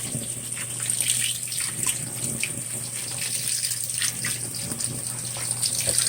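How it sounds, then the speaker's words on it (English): Water runs steadily through the fabric softener dispenser of a Whirlpool Cabrio WTW7000 top-load washer during a wash cycle with a thick queen-size comforter, a constant close splashing gush over a low mechanical hum. "it's running water through the softener, trying to clear it out"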